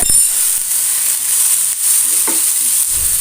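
Spiced flour masala sautéing in a hot pan after a squeeze of lemon juice, a steady close sizzle with faint spoon scrapes and stirring clinks, no voices.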